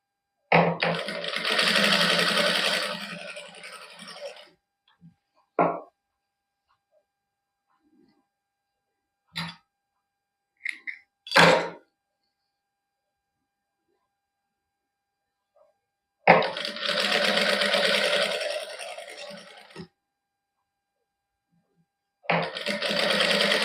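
A sewing machine stitches gota patti lace onto a plain suit, running in loud close bursts of rapid whirring with pauses between them, plus a few sharp clicks and knocks from handling the fabric.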